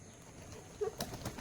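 Pigeons being fed by hand in a village flutter briefly, a few soft wing flaps heard faintly amid quiet surroundings.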